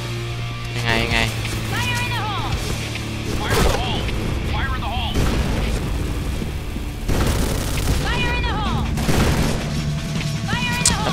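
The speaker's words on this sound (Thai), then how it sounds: "ปืนค่อนข้างรัวช้านะ" AUG A3 rifle in the shooter game Point Blank, loud bursts of gunfire and booming blasts repeating across the stretch, with someone talking over much of it.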